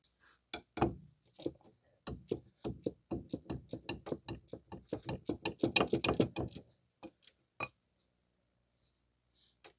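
A ratchet wrench loosening a 14 mm nut on the front lower control arm of a 2006 Mazda 3 2.3, a fast close run of crisp clicks that stops, then a few faint clicks trailing off.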